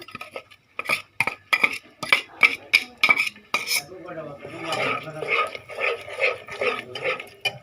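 Ground nut paste scraped from a bowl into a cooking pot for chicken roast, with a run of sharp metal clinks and taps from a spoon on cookware, then softer scraping and stirring, close and fairly loud.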